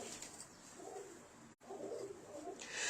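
Soft pigeon coos and murmurs fill a quiet, enclosed space, with a faint rustle of wings and a brief silent gap midway.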